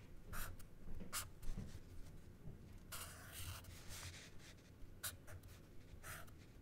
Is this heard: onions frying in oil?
no